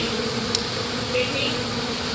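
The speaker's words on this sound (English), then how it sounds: "I've actually been here about an hour vacuuming bees off." A swarm of honeybees on a citrus tree makes a dense, continuous buzz that surrounds the listener. It stays steady and fairly loud, with no talking.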